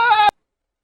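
A goat gives one short, nasal, wavering bleat, loud and close, that cuts off abruptly into silence.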